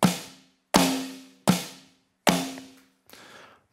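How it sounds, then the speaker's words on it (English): Yamaha DTX6 electronic drum kit snare pad struck four times in even succession, each a sharp crack with a ringing tail, followed by a softer, duller rim hit, close and alone. "at the moment, the snare drum and the rim sound like this"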